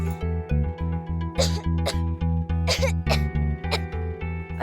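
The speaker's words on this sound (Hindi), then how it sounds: "अरे, इसे तो बहुत ज्यादा खांसी हो रही है।" A man coughs heavily in a TV drama scene, with repeated harsh, close coughs in an irregular rhythm over a steady tonal music bed.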